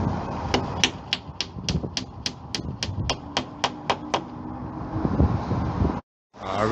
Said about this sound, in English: Hammer against the glass.